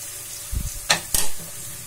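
Chopped garlic for veg Manchurian is stirred in a hot pan: a few brief scraping strokes and sizzling bursts, close and fairly loud, over a quiet background.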